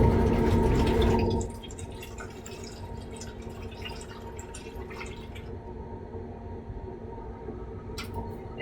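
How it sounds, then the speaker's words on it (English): Liquid chemical waste pours through a funnel into a waste bottle in a chemistry lab, a loud steady gush for about a second that cuts off into quieter trickling and drips, with no talking. "just pour your waste into"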